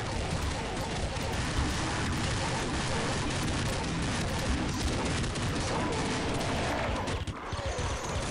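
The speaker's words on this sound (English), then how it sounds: "the madness of gun shooting and zombies running" Dense, continuous gunfire from Counter-Strike Nexon Zombies, a loud unbroken wall of rapid shots and crashes that barely lets up, with a brief dip near the end.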